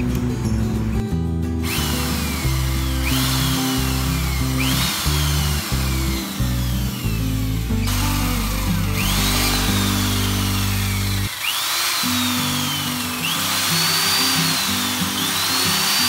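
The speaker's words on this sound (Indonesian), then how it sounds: "Ini pakai bor ukuran 5" A power drill with a size 5 bit whirs continuously at close range, its motor pitch repeatedly dropping and recovering as it bites into material, with brief pauses between bursts.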